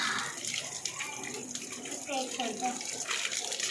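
Tap water runs steadily while someone washes their feet, a close, continuous splashing rush that fills the whole stretch, with a voice briefly speaking over it toward the end.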